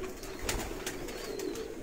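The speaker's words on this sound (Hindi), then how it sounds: "ये देखिए जी, इस साइड में भी कबूतर है।" Pigeons coo softly in a seller's loft, their low murmuring calls repeating steadily over faint background noise.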